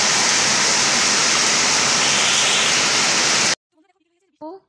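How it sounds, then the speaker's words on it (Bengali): A sudden afternoon downpour makes a loud, steady hiss of rain for several seconds, then stops abruptly, leaving quiet with a brief voice at the end. "সেই বৃষ্টি পড়ছে।"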